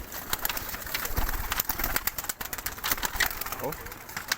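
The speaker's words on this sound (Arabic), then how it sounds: "وهنا برضه في حمام" Pigeons coo faintly in a loft, nearly buried under steady rustling and background noise, with people talking nearby.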